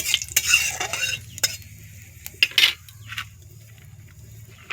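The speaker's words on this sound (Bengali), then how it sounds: "কালো জিরে, এটা একটু ভেজে নেব।" Black cumin (nigella) seeds fry in hot oil in a pan as a tempering, giving a soft sizzle with scattered crackles and a few sharp utensil taps, no voices.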